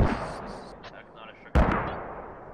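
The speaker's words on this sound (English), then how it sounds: "Mortars are coming out now." Mortar shells hit the ground in the Squad military shooter, with a rumbling impact followed by a second sudden loud blast that rolls out into a long decaying boom.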